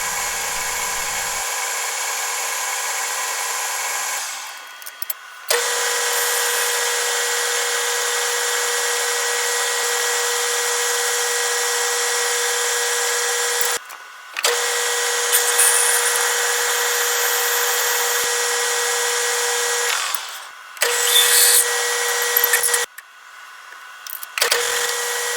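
A machine tool boring a taper in steel with a carbide tool for tool and cutter grinder wheel adapters: a steady, high, whining hum running in long stretches, broken by short pauses and shifts in pitch.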